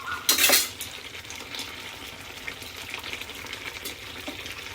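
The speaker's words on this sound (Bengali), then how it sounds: "তো এবার আমি ভালো করে একটু নেড়ে নেব।" Curry being stirred in a pan, a sharp scraping clatter of spoon against metal up front, then a quieter steady sizzle and soft stirring scrapes, close and without talk.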